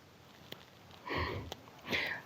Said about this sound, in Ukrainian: Мій самий головний кіт.